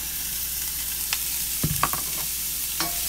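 Ingredients hitting hot oil and sautéing in a pan: a steady close sizzle with a few sharp clatters and pops near the middle and one more toward the end.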